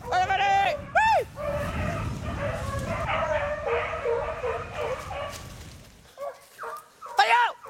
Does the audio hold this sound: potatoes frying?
no